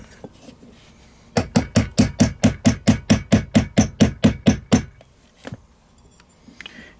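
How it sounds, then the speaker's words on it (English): About fifteen sharp, evenly spaced taps from the nylon end of a hammer striking a Truglo TFX sight on a CZ-75 pistol slide, loud and close, followed by quiet. "I'm going to take the nylon end of my hammer and just tap it."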